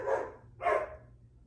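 A dog barking outdoors, two sharp separate barks about half a second apart, moderately close and clear, with no talk.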